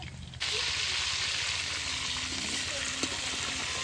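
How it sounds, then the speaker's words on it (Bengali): Potatoes fry in a pan with a steady, close hiss of sizzling oil that runs unbroken, and one small knock comes partway through. "চলো ধীরে ধীরে রান্না হোক, আলুগুলো ভেজে তোলা হোক,"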